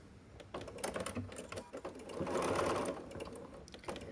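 Sewing machine stitching Dresden plate fabric blades together for a mini quilted Christmas ornament, a steady close mechanical whir with a rhythmic needle patter that swells in the middle and stays continuous throughout, with no talking.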